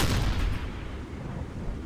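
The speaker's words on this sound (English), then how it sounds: "What was that ugly-ass explosion?" Explosion of a burning ship in the submarine game Silent Hunter III, a loud broad roaring blast that fades into a sustained rumbling wash.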